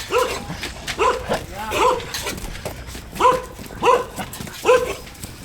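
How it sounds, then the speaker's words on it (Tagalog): A large dog on a farm barks repeatedly in short bursts, a steady series of sharp woofs at close range with a little background noise. "Ang laki ng aso."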